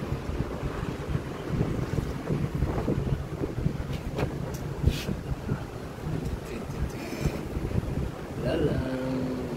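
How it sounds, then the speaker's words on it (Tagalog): Steady wind blows across the microphone outdoors in a park in Taiwan with a low rumble, continuous and fairly loud, with faint background sounds throughout. "Naririnig niyo ba yung simoy ng hangin?"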